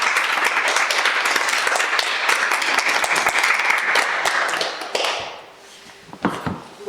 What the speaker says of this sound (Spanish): Yo creo que un aplauso en principio